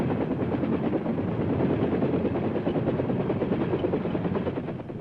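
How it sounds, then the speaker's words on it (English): A military helicopter on a Vietnam-era airfield flight line runs loudly and steadily, its rotor beating in a dense, constant throb that eases slightly at the end. "the chopper is moved to a different part of the field where the rocket pods are armed"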